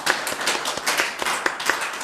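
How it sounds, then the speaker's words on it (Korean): Church congregation clapping in praise after a prayer, with a steady, fairly close patter of many hands and a few sharper individual claps standing out. "우리 하나님께 영광의 박수 올리겠습니다."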